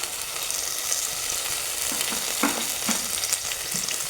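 Curry leaves, pandan and onion sizzle steadily in hot oil in a pan for a meat curry, with soft scraping and clinking as they are stirred close by.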